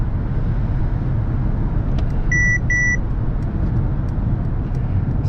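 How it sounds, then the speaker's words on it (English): Two short electronic warning beeps from a 2022 Mercedes C-Class W206 distance alert sound inside the cabin, clear over a steady loud road and engine rumble at highway speed. "So now it tells me I'm too close, take my foot off the gas, it's flashing to keep the distance"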